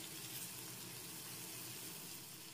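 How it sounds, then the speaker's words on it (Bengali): Spice paste of Kashmiri chilli, turmeric, coriander and cumin powders fries in a pan, heard as a faint, even sizzling hiss with soft stirring and no voices. "এখন মশলাটাকে একটু ভালো করে নেড়ে চেড়ে কষিয়ে নিচ্ছি।"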